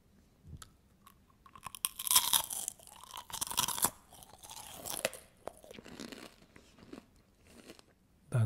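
Caramel popcorn with a thick, crunchy caramel coating is bitten and chewed up close, giving a run of loud, irregular crunches between quieter chewing, with no talking.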